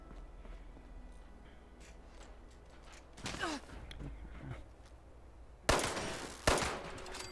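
Gunfire in the video game Fallout 76: faint bursts of shots crackle at a distance, with two louder sharp volleys later, over a quiet low background hum.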